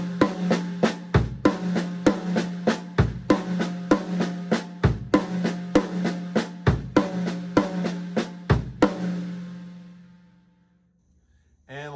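Drum kit playing a linear triplet phrase that alternates hand strokes on the drums with kick drum hits, a steady run of crisp, evenly spaced strikes over a sustained low tone that stops and rings out near the end.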